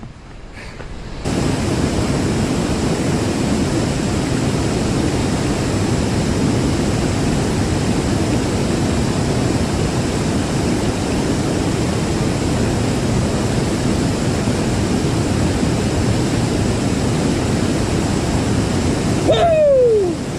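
Steady, loud rushing of fast-flowing stream rapids, a constant roar close by that continues unbroken for the whole stretch with no voices.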